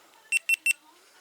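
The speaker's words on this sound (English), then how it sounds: "that annoying beep that I'm going to have to change" A GoPro Hero 8 camera gives three short, bright, evenly spaced beeps as it powers on, close and clear against a quiet background.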